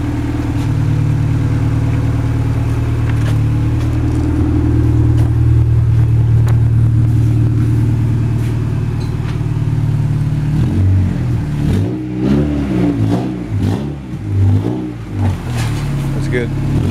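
A 1999 Acura Integra engine running steadily at close range, its low hum holding at idle before a series of quick revs rises and falls near the end, with someone talking over it.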